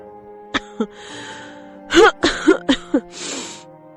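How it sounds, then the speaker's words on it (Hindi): Cartoon child coughing, a short run of light, breathy coughs and gasps in a quiet scene, a few spaced out and then several in quick succession, with a sigh-like breath at the end. "टुनी को पिंकू की हल्की खांसी सुनाई दी।"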